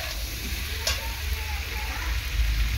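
Pointed gourd, potato, pumpkin and shrimp sautéing together in a pan, a dense steady sizzle with a faint scrape near the start, close and even, no one speaking.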